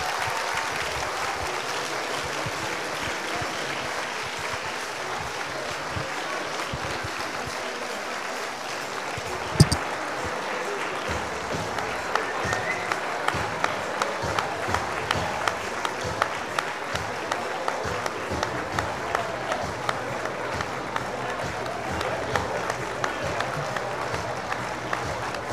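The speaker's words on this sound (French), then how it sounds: "je vous demande d'accueillir, s'il vous plaît, sous un tonnerre d'applaudissements, vos enseignants, vos présidents d'université" Applause rolls through a hall at a university graduation ceremony as teachers are welcomed, broad sustained clapping from a large crowd, building slightly and continuing throughout with a few sharper individual claps.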